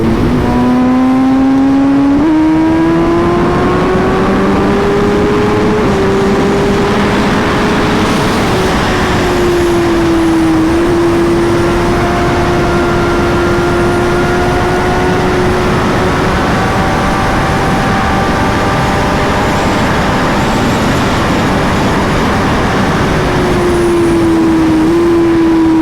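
A BMW M1000RR sportbike runs fast on a highway near a border, its engine giving a loud, sustained, close tone that climbs and then holds steady over constant wind rush. No one speaks.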